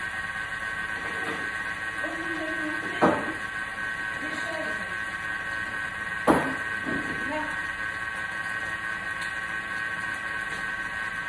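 A kitchen food processor runs at speed 4 while mixing chocolate barquette batter. Its motor gives a steady whirring hum with hiss, broken by two sharp knocks.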